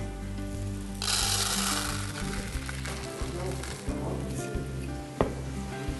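Fried rice (nasi goreng) sizzles steadily in a hot pan, loud and close, with scraping stirring strokes and occasional utensil taps on the pan.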